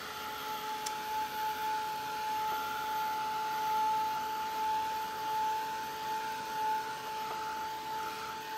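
A heat tool blows with a steady, loud whirring hiss while drying a transfer image on a mixed media substrate, with no talking.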